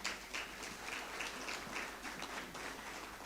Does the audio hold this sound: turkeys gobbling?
no